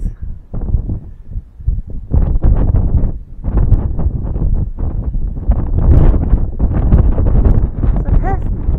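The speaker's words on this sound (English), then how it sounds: "Oh god, it's windy." Strong gusting wind buffets the microphone at the English Harbour lookout in Antigua, loud and uneven, with roaring bursts and brief lulls.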